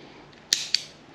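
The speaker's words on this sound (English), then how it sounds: "That's the sound you hear when you click your high beams on and off in an older" Two sharp mechanical clicks, close and crisp, a fraction of a second apart, from a 1985 square-body Chevy's headlight high-beam dimmer switch being pushed on and then off.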